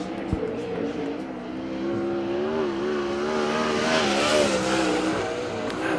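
A USAC Western World Championship sprint car lapping the track in qualifying, its engine a loud, sustained high-pitched roar that rises and falls through the corners, with a commentator talking over it.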